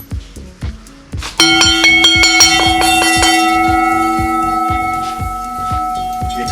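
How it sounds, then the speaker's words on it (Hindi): An intimation bell at a railway station rings out before a train arrives, with a few soft taps first, then loud, ringing metallic strikes repeating in a steady rhythm and leaving a long shimmering decay. "ये घंटी की गाड़ी के आने के लिए जो बजाई इंटीमेशन बेल जो होती है वो बनाई है"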